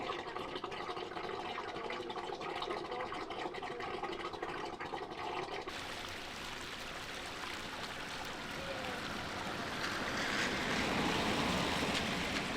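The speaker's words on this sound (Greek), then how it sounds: "Τώρα εδώ το μοτεράκι μου λέει να τραβήξει το υπόλοιπο νερό από εδώ." A small motor pump draws leftover floodwater out of a low-lying house at the edge of a flooded Greek village, a steady wet churning and rushing water noise that stays loud throughout and swells near the end.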